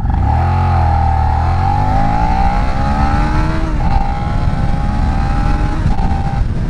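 A 2017 Suzuki SV650 Sport Edition V-twin motorcycle accelerates hard from a standstill, its engine note climbing steadily through the revs with a brief dip at a gear change and another near the end, loud and close throughout.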